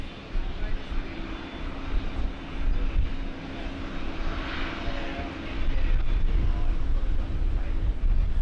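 A Qantas Airbus A330 airliner at Brisbane Airport gives a steady, fairly loud engine roar that swells slightly toward the end, with no voices over it.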